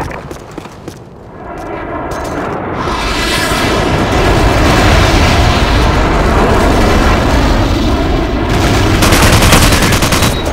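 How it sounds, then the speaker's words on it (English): In a military shooter video game, a friendly airstrike lands as a loud, continuous roar of explosions and rumbling blasts, building after a brief quieter start and holding dense and heavy to the end. "Friendly airstrike on the way!"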